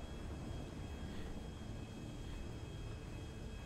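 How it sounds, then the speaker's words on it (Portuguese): A low, steady drone of a plane flying in GTA 5, faint and continuous, with an even hum and no voices. "eu não sei onde pousar esse avião"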